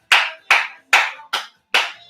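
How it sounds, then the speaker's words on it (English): Five sharp, close hand claps in a steady, evenly spaced rhythm, marking the beat of a dance step during a Havana-themed show, with no talk over them. "you can do clapping"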